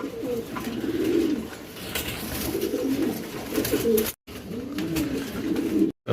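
Racing pigeons coo repeatedly in low, throaty rolls, several young birds overlapping close by, with a couple of brief dropouts.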